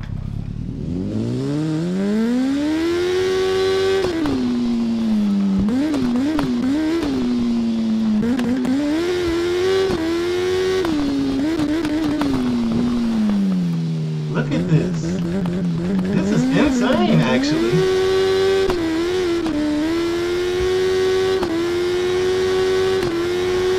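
A motorcycle engine in the video game TT Isle of Man: Ride on the Edge whines and revs continuously, pitch climbing and dropping as it shifts, with brief sputters and rattles along the way.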